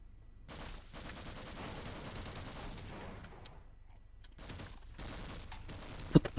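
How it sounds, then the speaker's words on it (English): Gunfire in Half-Life, heard as muffled, moderately loud bursts of shooting in separate stretches, with gaps of quiet and a couple of sharper hits near the end. "What the fuck is shooting at me?"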